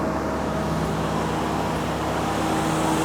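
A World War II Jeep (G503) engine idles steadily on a cold day after a distributor rebuild and timing work, a constant close, even engine drone with low rumble throughout and no talking.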